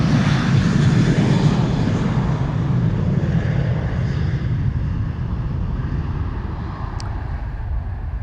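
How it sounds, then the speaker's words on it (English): A KLM Boeing 737-900 airliner departs Amsterdam Schiphol Airport, its jet engines a loud, steady broadband roar that slowly fades as it climbs away, with some wind noise on the microphone. "KLM 737-900 to Copenhagen,"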